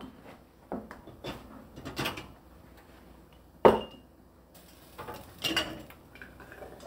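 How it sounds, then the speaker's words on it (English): Glass canning jars clink and knock on a kitchen counter while homemade tomato soup is ladled in, scattered light taps and one sharper clack among quiet handling noises. "it is now time to fill our jars."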